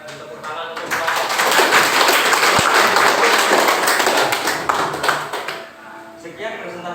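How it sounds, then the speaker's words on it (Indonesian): A group receives applause at the close of a classroom presentation on academic supervision. A dense burst of clapping swells within the first second, holds for about four seconds and then fades, with voices at the edges. "Kita tepuk tangan untuk kelompok."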